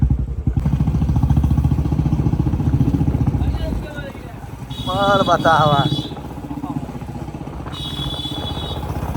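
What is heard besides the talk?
motorcycle carrying three people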